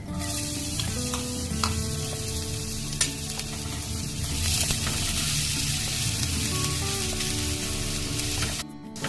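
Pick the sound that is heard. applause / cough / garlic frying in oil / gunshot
garlic frying in oil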